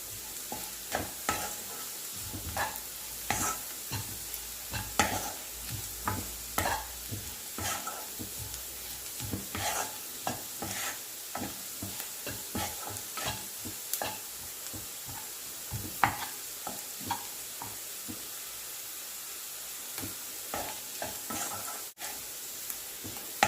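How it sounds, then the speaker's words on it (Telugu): Egg fried rice frying in a pan while a spatula stirs it, with a steady sizzle under repeated scraping strokes throughout, fairly close and no voices. "సరిపోయిందండి వేగడం"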